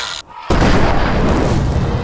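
A loud, deep explosion in an edited video shot bursts suddenly after a short quiet gap, then rumbles on as a sustained heavy roar.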